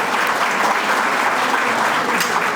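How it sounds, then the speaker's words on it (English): An audience gives a steady, dense round of applause after a poetry recital at a Ramadan iftar, clapping continuously and close by for the whole stretch. "I just want to ask a collective round of applause for Mina, Pamir, and Lina again"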